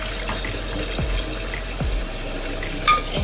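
Cold tap water runs steadily into a pot holding two eggs, a continuous close splashing rush with a few small clunks and one brighter splash near the end, no voices.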